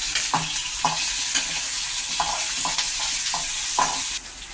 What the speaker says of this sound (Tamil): வாங்க இஞ்சி பூண்டு போட்டுக்கலாம். இவ்வளோ இப்போ வாங்க வதக்கிடலாம்.